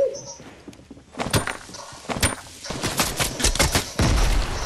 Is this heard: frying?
no